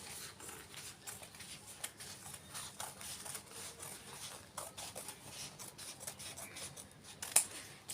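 Scissors snip through fabric along marked lines for a zippered cloth bag, a faint series of soft, irregular crisp cuts in a quiet room.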